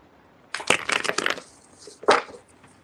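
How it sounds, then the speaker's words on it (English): Tarot cards shuffled by hand in a few quick, crisp riffling bursts, a cluster of papery flutters followed by one more short shuffle, close and clear. "This is like a bad shuffle."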